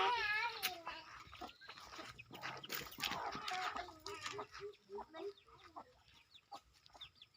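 Several chickens cluck and squawk nearby, a busy overlapping chatter of calls that gradually thins out toward the end.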